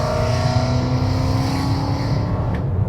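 A BMW E39 Touring with a V8 engine revs loudly and steadily, a deep continuous rumble filling the whole stretch with no talk over it.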